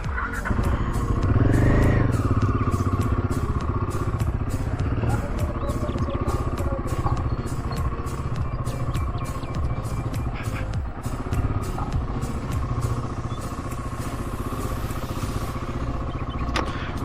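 A motorcycle runs along a hilly off-road trail in Sakleshpura, its engine droning steadily and loudly throughout with a constant rumble and rattling, and faint voices now and then underneath.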